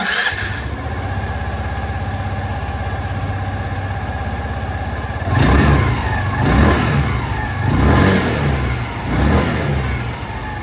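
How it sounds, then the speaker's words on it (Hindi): A 2025 Hero Xoom 125 XTEC scooter engine idles with a steady, close hum for about five seconds, then is revved in four distinct throttle bursts that rise and fall in quick succession. "अब मैं आप लोगों को यहाँ पर जो जूम 125 एक्सटेक मॉडल है उसकी जो आवाज़ है वो भी मैं आप लोगों को सुना दूँ"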